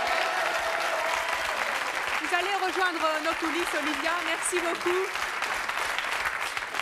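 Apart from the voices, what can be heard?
audience applause for contestant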